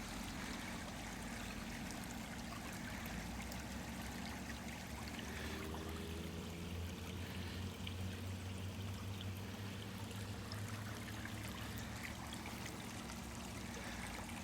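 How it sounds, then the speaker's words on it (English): Water runs steadily through a drainage pipe at a site in Pennsylvania, a continuous close rushing and trickling flow with low gurgling, with no talk. "pipe's plenty big enough to carry the water away though."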